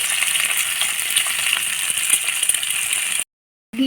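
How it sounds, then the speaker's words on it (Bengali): Eggs and potatoes frying together in a pan make a close, steady sizzle with light rattles and clinks, broken by a short silence near the end before another sound starts. "ডিম আলুগুলো ভাজা হচ্ছে"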